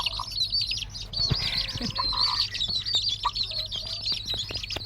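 High, rapid chirps from chicks in a steady stream, with occasional clucks from a mother hen nearby, all fairly close.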